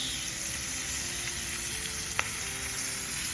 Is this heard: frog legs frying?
yes